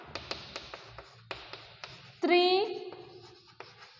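Writing on a board during a class 7 maths lesson on lines and angles produces light repeated tapping strokes while the teacher speaks.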